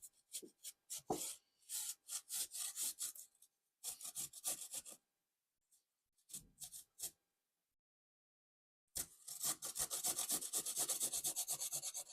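Rasping, scraping strokes of a peeler working over food while making meatloaf sandwiches, coming in quick close bursts with pauses between them and a longer steady run of strokes at the end, no talking.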